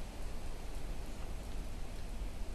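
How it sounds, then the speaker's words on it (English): Steady rain in the video game Planet Crafter, leaking into a dome: a dense, even hiss of falling drops, close and continuous, with no other sounds. "was it me or is it raining?"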